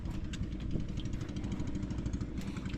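A Honda engine driving a new water pump runs steadily, a close, continuous mid-pitched drone with a fast, even firing rhythm and no talk over it.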